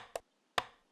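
Two sharp, dry percussive hits from self-made drums in a jazz beat, a short one and then a louder one with a brief decaying tail, each standing alone against silence.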